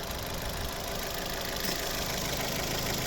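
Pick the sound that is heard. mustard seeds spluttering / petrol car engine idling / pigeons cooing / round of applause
petrol car engine idling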